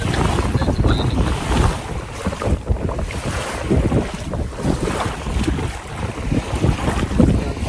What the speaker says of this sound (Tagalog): Naririnig niyo yung ano, lagas-ilas ng tubig.